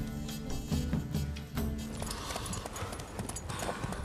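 Horses' hooves clip-clop in a steady, fairly quick rhythm in The Witcher 3, moderately loud and mixed with rattling, mechanical tack noises.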